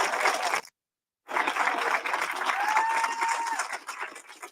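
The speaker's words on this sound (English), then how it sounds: "Give her another round of applause, please." Applause from a graduation audience fills the room, a dense wash of clapping that cuts out briefly near the start and then resumes at moderate level, fading slightly at the end.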